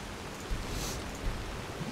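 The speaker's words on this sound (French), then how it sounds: "Mais je t'entends pas tellement il pleut." Steady rain falls in the video game Skyrim, a dense, even hiss with faint patter and no voices.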